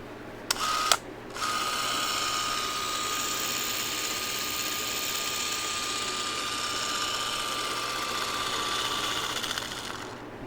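An old film camera runs with a steady, even whir and a thin high whine for about nine seconds after a couple of brief clicks at the start. The sound is close, fairly quiet and continuous, with no talking.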